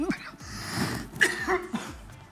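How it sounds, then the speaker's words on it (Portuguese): A few short, throaty coughs close up, spaced irregularly in a quiet room. "Tá tossindo?"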